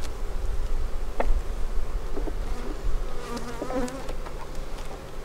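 Honey bees buzzing steadily around a hive and queen cell in a bee yard, a dense close hum with a few louder individual passes, no voices.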